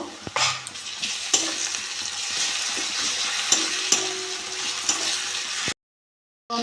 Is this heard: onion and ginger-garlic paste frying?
yes